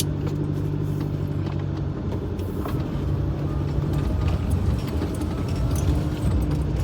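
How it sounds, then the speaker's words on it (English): A car approaches along a road with a steady, fairly close rumble of engine and tyre noise that swells slightly over several seconds, with no talking. "that car is coming towards me now"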